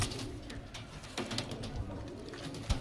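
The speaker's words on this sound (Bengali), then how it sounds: "বন্ধুরা পায়রা দুটো ছেড়ে দেখাচ্ছে আপনাদেরকে, দেখুন এই দেখুন পায়রা কত অ্যাগ্রেসিভ" Two Kaldum pigeons, released and aggressive, coo softly with a few quick wing flutters and scuffling sounds, close by.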